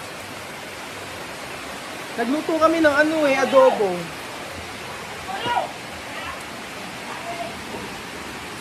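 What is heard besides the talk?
heavy rain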